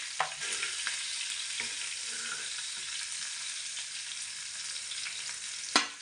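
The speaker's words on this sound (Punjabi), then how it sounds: "ਹੁਣ ਇਹਦੇ ਵਿੱਚ ਆਪਾਂ ਪਾ ਲੈਣੇ ਲਸਣ ਲਸਣ ਨੂੰ ਆਪਾਂ ਥੋੜਾ ਜਿਹਾ ਬ੍ਰਾਊਨ ਕਰ ਲੈਣੇ" Garlic browns in a hot pan with a steady, dense sizzle throughout, broken by a few short stirring scrapes and a louder clatter near the end, with no voices.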